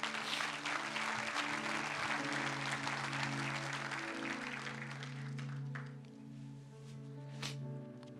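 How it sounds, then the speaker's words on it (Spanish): A church congregation claps together in applause, a dense steady patter over sustained low musical tones, fading slightly toward the end. "Dele un fuerte aplauso a Dios por eso."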